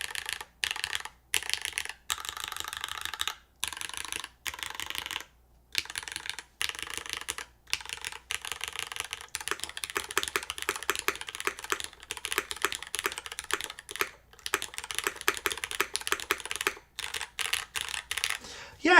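Fast keystrokes on a Blaine V2 mechanical keyboard with a firm, top-mounted sound, coming in close, crisp bursts of typing broken by short pauses, with no talking.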